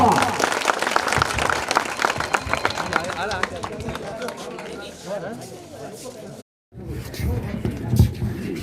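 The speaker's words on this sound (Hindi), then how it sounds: "जोरदार तालियों से स्वागत करेंगे" Dense, sustained applause from a village school audience greets a speaker, loud and continuous at first, then thinning with scattered claps and voices before a brief gap and a renewed burst.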